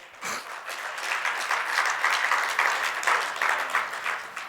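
Audience clapping steadily at a Hindi religious sermon in Ujjain, a dense, even burst of applause from a seated crowd lasting several seconds.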